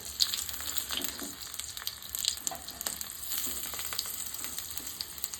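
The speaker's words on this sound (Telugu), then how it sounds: "మనం ముందే చుట్టి పెట్టుకున్న రోల్స్ ఉన్నాయి కదా, అవి ఫ్రై చేసుకుందాం. ఇటు తిప్పుకుంటా కాల్చుకోవాలి" Chicken keema cabbage rolls frying in oil in a pan, a close, continuous sizzle with scattered scrapes and taps as the rolls are turned over.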